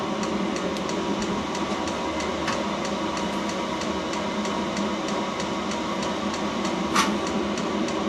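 A Banggood portable diesel heater runs with a steady broadband whooshing roar as it blows warm air, joined by faint regular ticking and one brief louder click.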